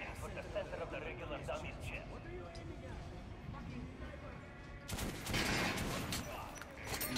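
Gunfire in the video game Metro Last Light Redux: a rapid spray of shots under faint game noise and a voice, then a louder, denser burst near the end.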